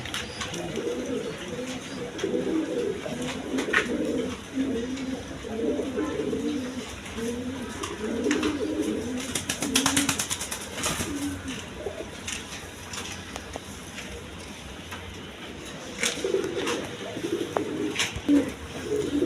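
A pair of high-flying pigeons coo softly and repeatedly, low rounded calls near at hand among other birds, with some background noise.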